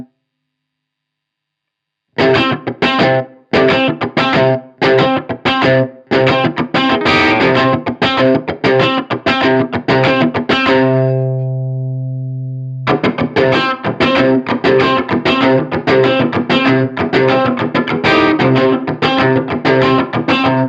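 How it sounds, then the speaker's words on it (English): Distorted electric guitar chords strum in a steady rhythm through a Strymon Iridium amp and cab simulator, with a held chord left ringing out into a roomy natural reverb tail before the strumming resumes. "give you a little bit more of like a natural sounding reverb"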